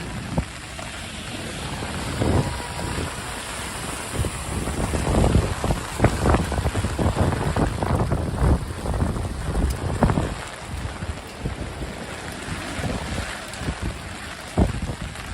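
Wind gusts through a New York City street during heavy rain and flash flooding, a loud, rough rushing that buffets the microphone in bursts, with splashy wash underneath and no talking.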